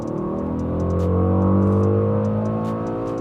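Mercedes-AMG GLE 63 S Coupe accelerating hard in race mode on a test track, a loud, smooth engine drone with rising harmonic tones as revs climb steadily, heard from inside the cabin.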